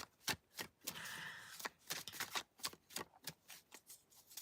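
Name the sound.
shuffling tarot cards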